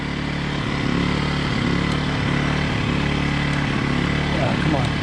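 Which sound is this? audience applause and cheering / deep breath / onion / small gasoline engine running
small gasoline engine running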